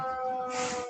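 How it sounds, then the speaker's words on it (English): A wailing siren drones faintly in the distance, a steady high tone briefly rising in pitch. "Apologies if you can hear the sirens outside."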